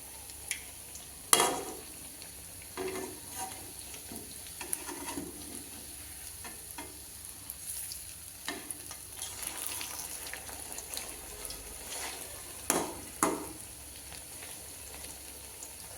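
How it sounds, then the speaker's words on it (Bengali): Cabbage pakoras frying in oil over a low flame give a steady, soft sizzling hiss, broken by scattered louder crackles and brief stirring knocks, close and without talk. "চুলার জলটা কমিয়ে হালকা হালকা আঁচে ভাজতে হবে, যাতে ভিতর থেকে সিদ্ধ হয় পকোড়াগুলো।"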